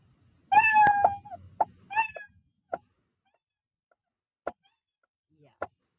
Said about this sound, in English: the cat is repeating his meow sound within a time